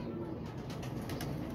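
Pigeons coo softly in a low, murmuring burst, fairly close and quiet against a faint background hum.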